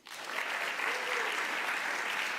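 Applause breaks out from the audience at the 2025 San José Cornerstone of the Arts Awards, rising quickly into sustained clapping from many hands that holds steady to the end.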